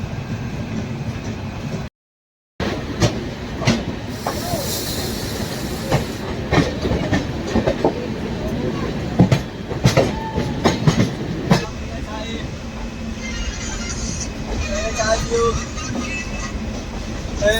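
A train pulls out of Lucknow bound for New Delhi, wheels clattering in steady clickety-clack rhythm under a continuous rolling rumble, close and loud, with a brief dropout near the start and faint speech in the background.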